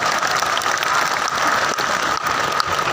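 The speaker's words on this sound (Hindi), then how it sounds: "एक बार अपने आप के लिए भी ताली बजा दे, आप जमींदार हैं।" Loud, dense clapping from a large crowd at an outdoor festival performance, a continuous roar of hands close by with a few sharper claps standing out.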